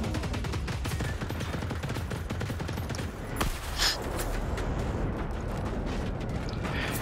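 Rapid sniper rifle gunfire in the video game Generation Zero, loud and dense throughout, with repeated sharp reports and a brief lull midway.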